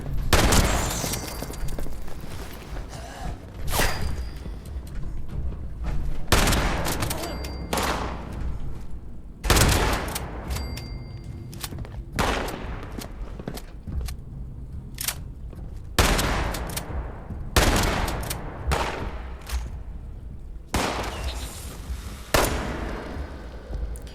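Repeated loud gunshots in Fallout 76, sharp cracks spaced a second or two apart with some quick clusters across the stretch, with no talking.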